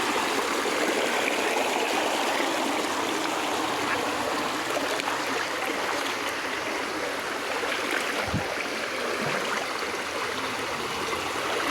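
Freshwater stream in Sai Kung flowing steadily, a broad continuous rush and trickle of water close by, with no voices, lasting throughout.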